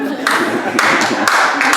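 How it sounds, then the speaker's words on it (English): Short burst of applause and clapping from a small comedy-show audience, loud and close, with a voice briefly talking over it. "Round of applause there."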